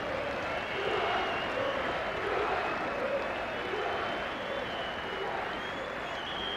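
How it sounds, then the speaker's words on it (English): A large football stadium crowd applauds a departing player in a sustained, steady roar of clapping and cheering that swells slightly and then holds. "Generous applause by the fans, and doesn't he deserve it?"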